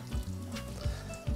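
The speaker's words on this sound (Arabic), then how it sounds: "بدا يقلي في البوراك" Bourek pastries fry in hot oil with a continuous loud sizzle, punctuated by occasional low stirring scrapes and bubbling surges.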